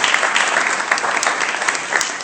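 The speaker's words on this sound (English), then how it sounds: "you deserve a round of applause" A crowd at a co-working space opening and ribbon cutting bursts into sustained applause, dense and fairly loud, holding steady with no voices over it.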